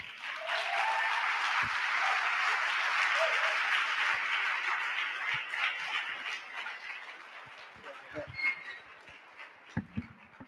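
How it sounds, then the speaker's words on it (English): Audience applause for a speaker at a conference on agorism and parallel networks, a steady broad wash of clapping that gradually thins and fades into scattered claps and faint room noise. "Please give him a round of applause."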